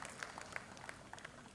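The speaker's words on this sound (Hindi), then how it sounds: "जोरदार, कमजोर नहीं, जोरदार तालियां आप सभी की मिलनी चाहिए।" Faint, scattered applause rises from the audience at the Patrika Keynote event in Bhopal. It comes as a thin, distant patter of hand claps with a few sharper individual claps.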